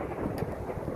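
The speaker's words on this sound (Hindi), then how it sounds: "आप सुन सकते हैं ये बादलों की गरज सुन सकते हैं आप" A low, dense rumble of thunder during a winter storm in the UK with snow, wind and rain, rolling continuously through a brief moment and heard alone.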